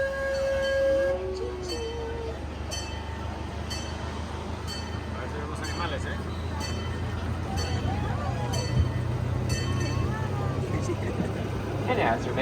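The Zoofari Express miniature train at Utah's Hogle Zoo pulls away from its station with a low steady engine rumble and rolling clatter, while a voice talks over it throughout.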